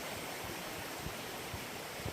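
Steady rushing water fills the whole clip, a broad continuous wash of a nearby river flowing beside a small trail, with no voices.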